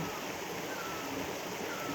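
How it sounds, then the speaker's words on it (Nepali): Water tumbles down from a forest in a stream or small waterfall, making a steady, even rush that sounds soft and somewhat distant, with no other sounds standing out. "गरुङसुरको बिच जङ्गलबाट यो पानी झरेको छ"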